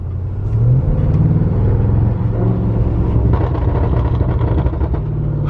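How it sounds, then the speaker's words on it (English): An Audi RS7 with its exhaust valves open in sport mode roars loudly and steadily close by, the deep engine drone rising in revs with rough rumbling and a few sharp crackles near the end. "I'm gonna open my exhaust valves and put it in sport mode and listen to the difference."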